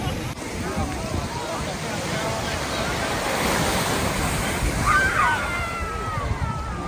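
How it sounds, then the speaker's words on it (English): Ocean surf at a beach on Grand Turk in Turks and Caicos washes steadily, mixed with wind rumble on the microphone and a faint murmur of people in the background. "So we're here at the beach at Turks and Caicos, or Grand Turk more specifically."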